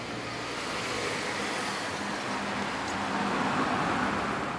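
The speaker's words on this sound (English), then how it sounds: "It's so quiet here, you hear the cars starting up all the time." Steady low rumble of road traffic on a quiet town street in Langport, vehicles idling and moving at moderate distance, a continuous even drone with no distinct engine start standing out and no talking.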